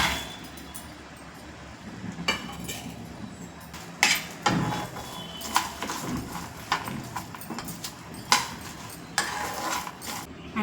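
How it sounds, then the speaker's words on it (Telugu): Onions, coriander seeds, dried chillies, cumin, garlic, garam masala spices and peanuts fry together in a pan for brinjal biryani, under a steady low sizzle broken by repeated spatula taps and scrapes against the metal. "అన్నీ కలిపి ఒకసారి మనం ఫ్రై చేసుకుంటున్నామండి"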